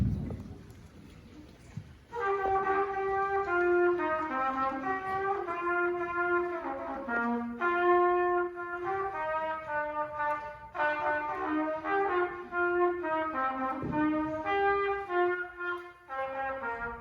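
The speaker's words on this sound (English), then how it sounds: "So the first instrument that is going to play, this was one of their choices in 5th grade as well, is trumpet" A fifth-grade student plays trumpet, a series of sustained brassy notes with short gaps between phrases over a faint room hiss, no talking.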